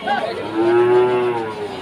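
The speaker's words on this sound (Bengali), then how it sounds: "এটা সিঙ্গি জাতের গরু" A Sindhi breed cow at a cattle market in Chandipur, Rajshahi, lets out a single long, loud, close moo with market noise faintly behind.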